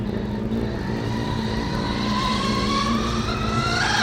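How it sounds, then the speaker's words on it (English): Formula Student race car at the 2012 FSG autocross, a loud steady engine drone whose pitch shifts as it brakes hard through the final corner, close by, with no speech. "braking hard in the final corner and nearly crossing the finishing line"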